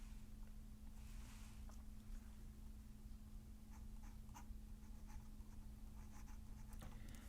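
Chalk or marker writes on a board during a physics lecture, giving soft, scattered scratching strokes over a low steady room hum. The sound is faint and there is no talk.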